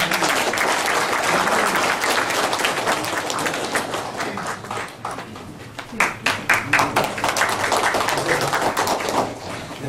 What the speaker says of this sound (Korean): 이제 마지막 발표이니만큼 이제 더욱 큰 박수로 좀 환영해 주시기 바랍니다